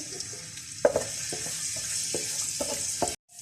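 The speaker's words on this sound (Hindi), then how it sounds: "इसके अंदर मैं चॉप्ड गार्लिक डालूंगी और इसको हम सौटे कर लेंगे" Chopped garlic sautéing in a few tablespoons of oil in a pan, a steady close sizzle broken by several soft scraping stirs before the sound cuts off abruptly near the end; no talking.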